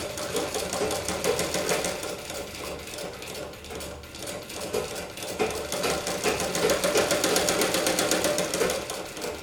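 Sewing machine stitching a plain band on a blouse, a fast, even run of rapid needle clatter going continuously at moderate volume, with no voices.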